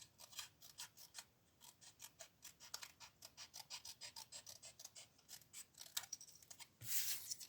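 Scissors cutting a 1.5 by 10 cm paper strip for a Christmas pop-up card: a quiet, close series of rapid snipping cuts in steady rhythm, ending in a brief louder rustle.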